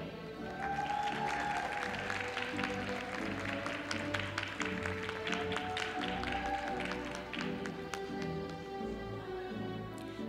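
Crowd applause for 2021 Ivy Tech graduates at a college commencement ceremony, dense steady clapping from many hands sustained for around ten seconds at a moderate distance.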